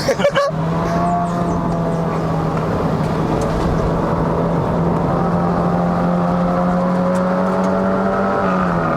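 A tuned Honda City hatchback, 1.5-litre GN5, holds a steady high engine drone near 5500 rpm, loud and close with rich harmonics, the pitch nearly flat and dipping slightly at the end.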